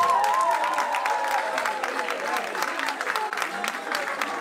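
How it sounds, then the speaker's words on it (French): A gathered audience applauds with sustained, dense clapping that fades slightly over a few seconds, while faint voices mingle underneath the crowd noise. "Applaudissez pour vous-même."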